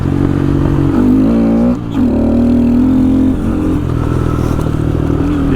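A Honda Grom motorcycle on Shinko Mobber 505 tires rides a pavement road in second gear, a loud, close engine drone that rises and falls with throttle changes and briefly dips.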